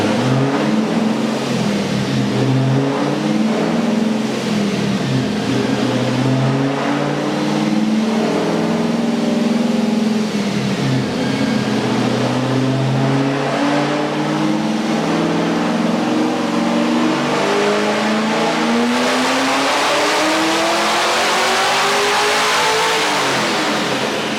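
A 2015 Chevrolet Camaro SS with a KraftWerks supercharger revs hard on a dyno and holds a sustained high-RPM roar, pitch climbing steadily toward the end, loud and close.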